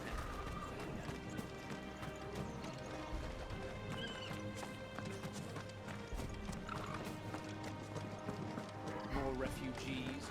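Horse hooves clip-clop in Final Fantasy XVI amid a busy game soundscape, a steady stream of clops under dense music and ambience, with voices talking and the odd whinny.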